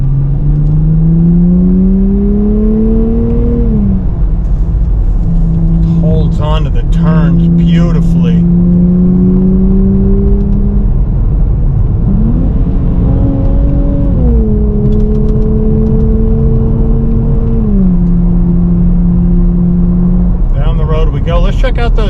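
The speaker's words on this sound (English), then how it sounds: "you get that really nice burble out of the rear exhaust" A 2024 Nissan Z Nismo's engine drones loudly from inside the car, stepping through downshifts with rising and falling pitch while the rear exhaust burbles underneath and a voice talks over it.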